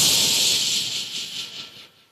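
A man on a comedy stage mimics a rich household's pressure cooker whistle with his voice, a long, bright hissing whistle that starts loud and slowly fades over two seconds.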